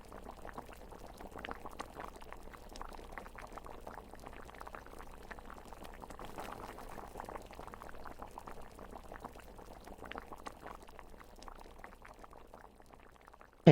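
Pig trotters simmering in a pot of water, a soft, steady bubbling and burbling that runs evenly throughout, faint and close, with no voices.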